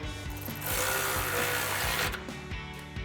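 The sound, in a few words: ratchet with 18mm socket tightening a through bolt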